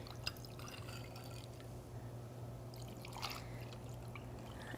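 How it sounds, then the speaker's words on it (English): Sake sangria is poured into iced glasses, faint liquid trickling and light drips over a steady low hum, with slightly stronger pouring near the start and again later. "pour some of my saki sangria in"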